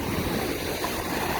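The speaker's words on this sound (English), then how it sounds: "The waves in the foreground and in the background" Ocean waves wash steadily onto a resort beach, a continuous broadband surf rush with no talking.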